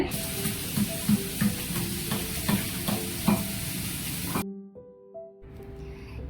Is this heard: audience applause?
no